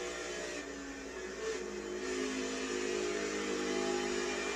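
A race car engine at Darlington Raceway in NASCAR Heat 4 drones steadily at high revs, holding a constant buzzing tone that swells slightly and stays loud and close throughout.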